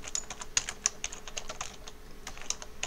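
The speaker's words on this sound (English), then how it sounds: "And you type in the station name like that." Quick bursts of keystrokes on a computer keyboard while a station name is entered, a close, crisp stream of light clicks with a few sharper taps, no voices.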